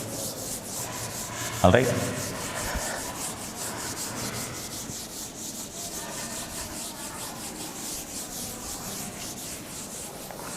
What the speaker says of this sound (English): Let me rub and write once again so that you may be understanding well.